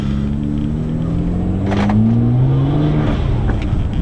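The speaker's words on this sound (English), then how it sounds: "Blow off valve still working, which is good." A turbocharged BMW revs with a steady, loud engine drone and rising pitch, then briefly eases off. Any blow-off valve vent is not clearly separate from the engine sound.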